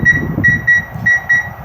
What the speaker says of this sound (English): we will get a series of high-pitched chirps indicating that the alarm has not set properly